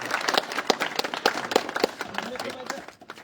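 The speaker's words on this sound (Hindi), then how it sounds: "इनका जोरदार तालियों से स्वागत करो।" A village gathering claps to welcome a guest at a reception, scattered hands ringing out close by in an uneven patter that thins toward the end, with voices underneath.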